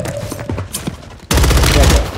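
Gunfire in Call of Duty Warzone: a few scattered shots and faint footsteps give way to a loud, sustained burst of rapid automatic fire that runs to the end.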